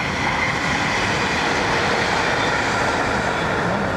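A train passing near a golf course during the Women's Scottish Open, a steady loud rumbling roar that holds throughout, close and continuous with no talk.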